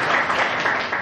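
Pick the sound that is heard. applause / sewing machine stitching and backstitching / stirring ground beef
applause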